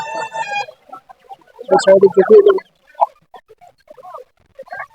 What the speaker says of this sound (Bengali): এই মুরগিগুলো পঁয়ত্রিশশো টাকা করে বিক্রি করছে